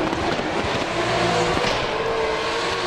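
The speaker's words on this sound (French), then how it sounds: "thias Locatelli qui a bien sauté son départ, qui est déjà à l'attaque sur le véhicule de Guillaume Esteban" Race cars accelerate hard up the winding Calmont touge hill course with a dense, continuous engine roar at close range and steady high volume, and no voices.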